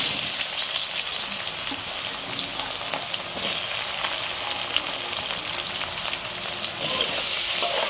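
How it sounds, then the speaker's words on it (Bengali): Onions frying in hot oil with a bay leaf for chicken pulao, a dense, even sizzle with faint crackling, close and steady throughout without any talking. "তেল আমার গরম হয়ে গেছে, তেজপাতা দিলাম, পেঁয়াজটা ভাজতে দিচ্ছি"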